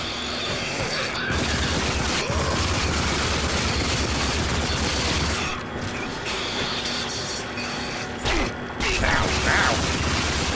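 Video game gun reloading mechanism, clicking and ratcheting metal parts heard up close over a dense, continuous roar of game noise and gunfire.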